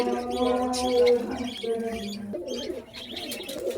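Pigeons coo in a Khulna Borobazar pigeon shop, several birds overlapping in steady low rolling calls with occasional chirps and a brief squawk, close and fairly loud throughout.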